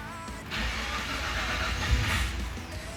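A K5 Blazer on a Roadster Shop chassis cranks and fires for the first time, the engine catching with a loud, close rumble that settles into a steady, broadband roar.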